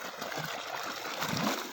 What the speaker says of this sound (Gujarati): અહીંયા પાણી આવે છે